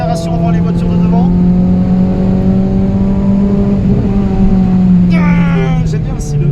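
Renault Clio 3 RS phase 2 engine pulling steadily under acceleration from inside the car, a loud sustained drone that climbs slightly in pitch partway through, with someone talking over it throughout.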